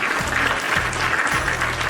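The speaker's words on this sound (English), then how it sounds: "a round of applause and congrats for your completion" A round of applause from an audience at the close of a podcast episode gives a dense, steady patter of many hands clapping at even loudness.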